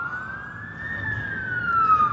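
A fire engine's siren wails at a crash scene on Main Street, holding a steady high tone that slowly rises and grows louder as the engine draws nearer, with no talk over it.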